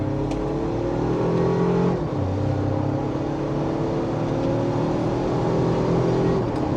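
A 2025 Toyota 4Runner Trailhunter accelerating in sport mode from second gear: a steady engine drone rising in pitch, dipping briefly at a shift, then climbing again under constant road noise.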